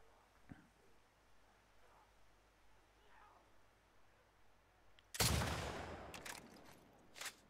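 Gunshots in The Last of Us Part 2, a sudden loud shot cracking in after a long quiet stretch of faint ambience, then a few more sharp reports trailing off near the end.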